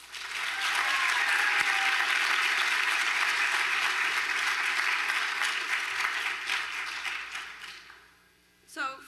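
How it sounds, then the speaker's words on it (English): A room full of people at a first-generation student graduation ceremony claps steadily for the graduates, a dense wash of applause that swells, holds for several seconds, then fades out, followed by a brief voice. "Let's give everyone a round of applause."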